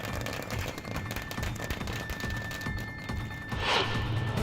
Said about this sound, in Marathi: शिंदे गटाच्या कार्यकर्त्यांनी फटाके फोडत जल्लोष केला.